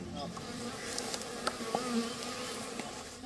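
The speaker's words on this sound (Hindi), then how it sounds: "जहां मधुमक्खियों का परिवार शहद बना रहा है" Honey bees buzz around their hive where the colony is making honey, a faint continuous drone with scattered brief buzzes passing close, without any talk.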